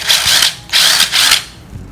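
A 12V cordless screwdriver, the Sheet 120, whirs in three short, loud bursts with brief pauses between, close by and with no voice over it.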